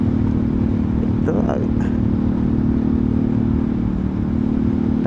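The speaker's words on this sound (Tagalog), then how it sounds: "naka high speed kasi yung motor natin" Euro Rock R125 motorcycle cruising at high speed on a long-distance road trip, a constant loud engine drone with wind roar, one brief passing rise in the middle.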